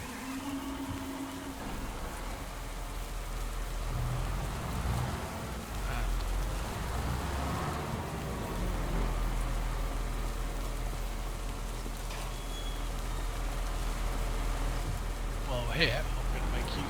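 Steady in-game rainfall in Farming Simulator 25, a continuous broadband hiss of rain on surfaces with a low engine rumble underneath, running throughout without voices.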